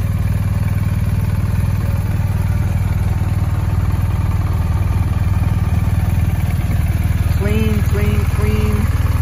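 A 2021 BMW R1250GS Adventure Premium Package motorcycle with 2,800 miles idles close by, a steady, loud, even engine hum throughout, with a few short electronic beeps near the end.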